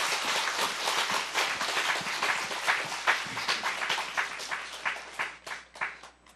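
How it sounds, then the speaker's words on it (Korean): An audience at a church gathering of the Jeonbuk diocese claps loudly and fast, sustained applause with sharp individual claps, thinning toward the end. "뜨겁게 박수를 보내주시기 바랍니다"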